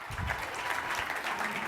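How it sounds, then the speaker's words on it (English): A conference audience at a digital marketing event in New York breaks into steady applause, a dense, even wash of clapping that holds at full strength for the whole short stretch with no voices over it. "Round of applause."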